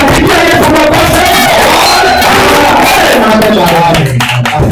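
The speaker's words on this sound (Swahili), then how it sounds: "Yesu makofi." A church congregation at a Swahili-language service led by an evangelist breaks into loud clapping and cheering for Jesus, a dense crowd roar of applause mixed with shouts and voices.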